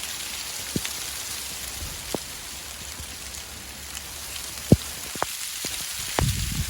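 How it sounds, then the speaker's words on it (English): Hailstorm falling on a plant nursery, a dense steady patter with scattered sharp ticks and knocks of stones hitting surfaces, close and continuous with no talk. "Bit of a hailstorm."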